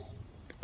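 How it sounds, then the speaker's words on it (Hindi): A drunk man hiccups once, a short, sharp hiccup that comes at the very end after near-silence. "उसे हिचकी आने लगता है।"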